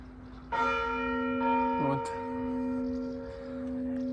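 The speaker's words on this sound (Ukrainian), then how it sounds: "От Дзвін." An Orthodox church bell in Netishyn, Khmelnytskyi region, strikes once with a ringing tone that hangs and slowly fades, heard alone at moderate distance.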